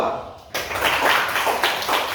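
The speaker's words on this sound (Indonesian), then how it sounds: "Tepuk tangan dulu untuk kelompok 2." A primary-school class claps for group 2 with quick, close, dense applause that starts abruptly after a brief pause and continues steadily.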